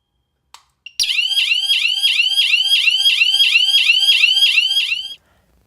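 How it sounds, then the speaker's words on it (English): A Fortress S02 wireless panic button sets off a loud, piercing electronic alarm: two quick clicks, then rapid repeating warbling chirps for about four seconds before it cuts off, heard alone. "will set off the alarm immediately when pressed"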